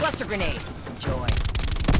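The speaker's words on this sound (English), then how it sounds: "Cluster grenade." Cluster grenade going off in an MX-9 first-person shooter, a quick cluster of sharp bursts and crackling blasts landing in the second half, loud and close, layered over game voice lines and music.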